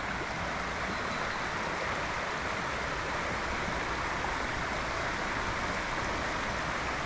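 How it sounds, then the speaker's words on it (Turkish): A small, newly formed stream trickling beside a quiet bay near Göcek, Turkey, giving a steady, close, even rush of running water with no voices over it. "Burada böyle bir dere oluşmuş kendiliğinden"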